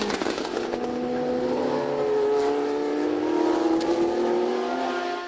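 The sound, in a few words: 1976 Inaltera race car engine at Le Mans Classic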